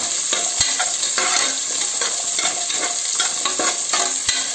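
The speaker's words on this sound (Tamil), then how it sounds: "இந்த தீயை குறைவாக வச்சு நம்ம வந்து இந்த வெங்காயத்தை கொஞ்சம் வதக்குறோம்" Onions sauté on low heat in a pan for a traditional mutton gravy, with a continuous loud sizzle and the scrape of stirring at regular intervals, close and steady, with no voices.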